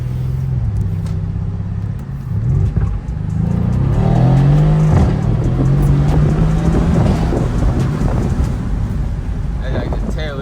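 A Mercedes C63S with its mufflers cut off revs loudly up close, the engine note rising and falling through a long pull amid wind noise.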